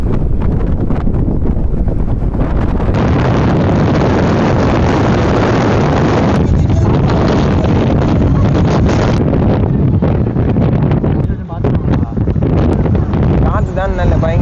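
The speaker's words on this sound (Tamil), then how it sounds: "காற்று தான் நல்ல பயங்கரமாக இருக்கு." Strong wind buffets the microphone in a loud, continuous roar while riding a bus from Mannar to Jaffna, with a person speaking over it.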